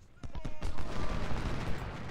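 Musket volley fire in the video game Ultimate General: Civil War at the Battle of Gettysburg, a dense crackling fusillade that sets off sharply and rolls on continuously.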